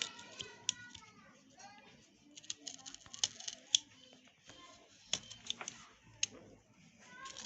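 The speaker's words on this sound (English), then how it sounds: "So you make the cutter go through the lining and the inner sole here." A hand cutter slices through the lining and inner sole of an African craft sandal: quiet, close, irregular snips and clicks, with soft handling noises between the cuts.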